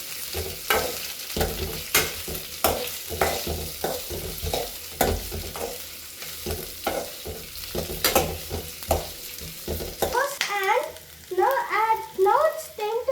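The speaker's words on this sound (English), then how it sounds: "Now we have to stir the onion and garlic." A spoon stirs onion and garlic frying in a pan, with repeated scraping strokes over a steady sizzle, close and fairly loud; a voice chirps briefly near the end.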